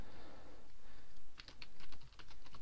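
Fingers type on a computer keyboard, a short run of light clicking keystrokes near the end over a steady background hum.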